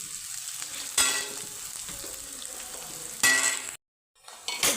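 Onions frying with garlic in a pan for a spinach and fenugreek curry give a steady close sizzle, with bursts of louder crackling and stirring as the pan is worked, then a brief drop to silence before the sizzle returns.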